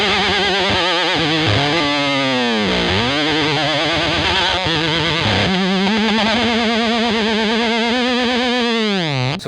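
Heavily distorted electric guitar played with hammer-ons only and slackened strings from the tremolo arm, loud wobbling, bending and swooping notes running continuously, with no voices.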